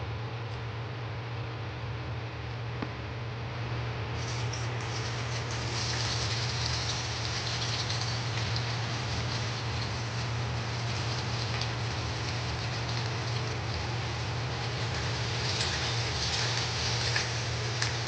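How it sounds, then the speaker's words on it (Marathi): Onions sizzling in hot oil in a pan as the base for a Marathi prawn masala, a steady dense crackle and hiss that grows a little brighter after the first few seconds, with a low hum underneath. "कांदा थोडा लाल होईपर्यंत आपण परतून घेऊया"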